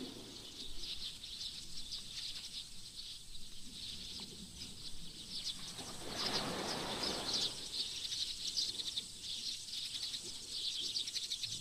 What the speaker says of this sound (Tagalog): Grabe, daming ibon.